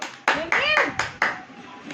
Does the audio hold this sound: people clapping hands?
yes